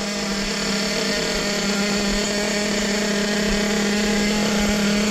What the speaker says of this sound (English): Now that it's getting warm, idle's picking up